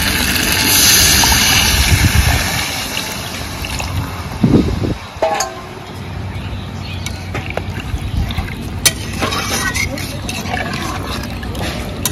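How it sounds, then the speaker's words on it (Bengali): Water is poured into a pan of sautéed pointed gourd and potatoes, giving a loud splash and sizzle early on that settles into a steady bubbling simmer with occasional drips and clinks. "দাদু, পটল আলু দিয়ে তো 2 মিনিট কষে নিলাম, এবার জল দিয়ে দিই।"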